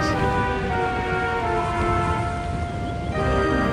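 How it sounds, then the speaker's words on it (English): Steady heavy rain pours down with a dense, hissing wash, loud and constant throughout. "The night brought strong winds and heavy rains"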